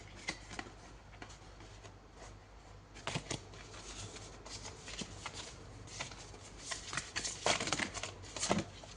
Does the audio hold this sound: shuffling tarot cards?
yes